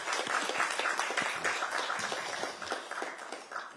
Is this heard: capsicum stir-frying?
no